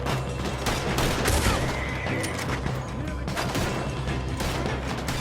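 Gunfire from a shootout in the video game Red Dead Redemption 2 fills the whole stretch with dense, continuous shots and crashes, and horse whinnies and shouting voices are mixed in.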